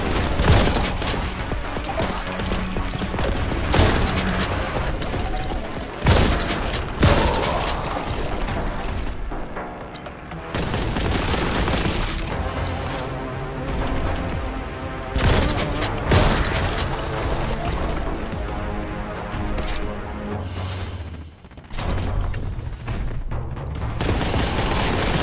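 Grenade explosions and gunfire in Warhammer 40k Boltgun, heard in the Sanctum Manufactorum level, a long stretch of loud booming blasts and rapid shots recurring in bursts, with brief lulls and mechanical clanks between them.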